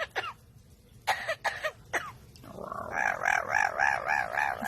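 A pet parrot mimics coughing, giving a few short raspy coughs, then a run of rhythmic, wavering hoarse calls, fairly close with some background noise.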